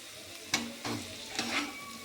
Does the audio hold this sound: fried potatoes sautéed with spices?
yes